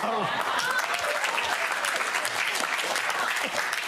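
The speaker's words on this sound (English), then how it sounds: "feel like we're applauding you for the Oscars" A studio audience on the Pointless Australia quiz show applauds in a dense, steady wash while a voice talks over it.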